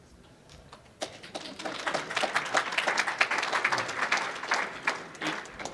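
An audience at a university lecture on fungicides and fungicide resistance applauds a plant pathologist's introduction: a few scattered claps start, then swell into a full, uneven round of clapping that holds at moderate volume.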